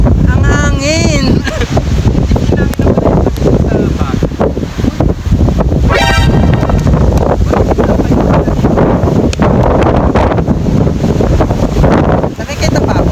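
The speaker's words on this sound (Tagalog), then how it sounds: "Ang hangin!" Strong gusting wind on the Tarak Ridge mountain summit in Mariveles roars loud and steady against the microphone, with voices chattering over the continuous buffeting.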